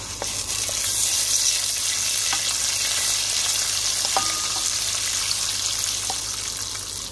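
Vermicelli frying in butter in a pot, a steady close sizzle with occasional light clicks and stirring touches throughout.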